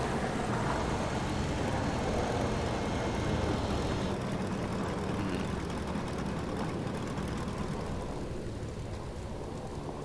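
A propeller aircraft engine in the video game Sky on Fire, a steady, dense droning hum during a landing that holds close and loud throughout and eases slightly near the end.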